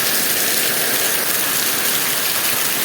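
Heavy rain pours in a dense, unbroken hiss of drops hitting surfaces, steady and close with no voices or breaks.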